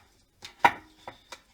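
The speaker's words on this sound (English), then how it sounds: "I want to smush this up a little bit" Dip ingredients are smushed in a bowl with a few soft, wet squelching taps, about four separate dull knocks spaced irregularly. They sound close and fairly faint, and no one talks over them.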